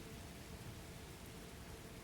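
A thunderstorm in the Derail Valley train simulator game at Coal Mine South gives a continuous, dense wash of rain with a low rumbling undertone, steady and enveloping with no breaks.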